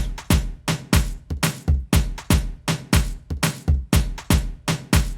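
A punchy drum loop of sharp, evenly paced hits, snare and clap strikes layered over low thumps in a driving, repeating rhythm.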